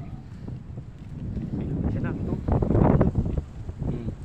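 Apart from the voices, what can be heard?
strong wind by the sea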